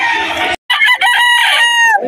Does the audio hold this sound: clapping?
no